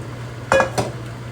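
A utensil clinks twice against a pan as corn is mixed into pancit canton, two short close metallic knocks over quiet background.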